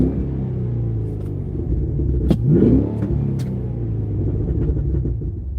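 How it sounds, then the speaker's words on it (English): Cadillac Escalade ESV V-Series SUV engine with a deep, loud steady rumble that swells into a short rev midway, then settles back to a throbbing idle, heard close and without talk. "That's the V series Escalade ESV V series."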